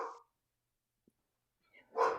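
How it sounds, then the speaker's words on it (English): Dogs bark in two short bursts separated by silence, heard faintly as if through a muted call connection. "we were able to hear her dogs barking"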